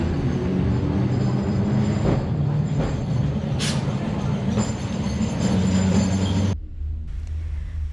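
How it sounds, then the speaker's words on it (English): A vintage sightseeing tram rolls along its rails with a steady rumble, occasional clicks and faint squeals, before the sound drops away near the end; no one speaks. "Another one of the famous ride is sightseeing on vintage trams."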